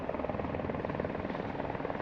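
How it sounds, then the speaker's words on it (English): A helicopter filming a movie scene on Scotland's Moray Coast near a Greek ship set, its steady, dense rotor drone loud and continuous throughout with no voices. "the helicopter taking the movie scene at the moment"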